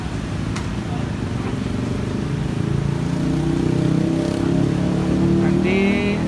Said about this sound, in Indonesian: Mesin sudah dinyalakan, bisa dilihat.